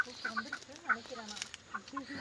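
Chickens clucking at a chicken farm in a village near a mountain, with short repeated clucks under steady background noise and faint voices nearby.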